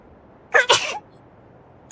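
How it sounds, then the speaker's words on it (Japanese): A man sneezes once, a short loud double burst in an otherwise quiet room. "自分でも笑っちゃうようなくしゃみ出た。"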